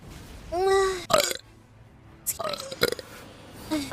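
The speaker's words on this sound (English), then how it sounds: "A burp." A person lets out a burp amid surrounding vocal sounds and short voiced bursts, close to the microphone, with brief pauses between noisy outbursts.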